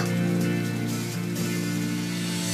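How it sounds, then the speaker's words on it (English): Never-ending rain from the video game Dynasty Warriors 8 patters in a steady wash beneath sustained tonal music, moderately loud and unbroken. "This never-ending rain, too."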